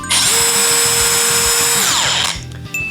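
A loud, high-pitched whining cordless grinder runs steadily close by, its motor pitch shifting slightly before spinning down at the end.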